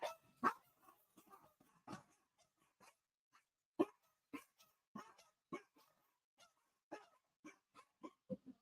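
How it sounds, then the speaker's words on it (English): Dogs in a home bark in a string of sharp, loud yaps and woofs with short pauses, several barks overlapping at times, some high yips among them, fairly close. "so they're probably going to bark for a minute."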